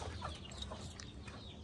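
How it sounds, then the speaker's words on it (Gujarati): Many roosters and hens cluck together in a busy, continuous flock chatter with no clear pauses, dense and moderately loud throughout. "તમે કુકડા જોઈ રહ્યા છો બહુ જાજા હે"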